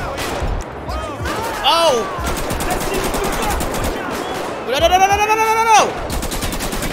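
Gunfire from undercover cops in Grand Theft Auto: rapid bursts of shots ring out near and loud amid yelling voices, with a heavier burst late in the clip.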